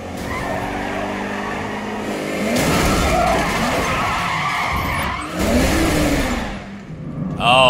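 Car tyres skidding and squealing during a drive in the video game Sleeping Dogs, with engine roar and a sweeping skid sound under steady traffic noise, louder toward the end.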